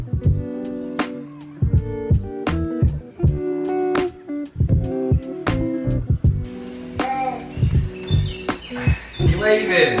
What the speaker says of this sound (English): At least we've got the bird sounds